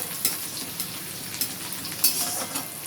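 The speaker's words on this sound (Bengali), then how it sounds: "ভেজে নেব। পেঁয়াজটা হালকা ব্রাউন হলে" Onions frying in a pan and being stirred, with a constant soft sizzle broken by regular scraping strokes of a spatula, fairly quiet and close.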